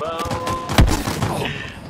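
Rapid bursts of gunfire in Halo Infinite multiplayer, with one sharp heavy shot standing out among lighter shots, close and loud, mixed with faint game voices.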